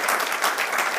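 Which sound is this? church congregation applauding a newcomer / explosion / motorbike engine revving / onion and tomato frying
church congregation applauding a newcomer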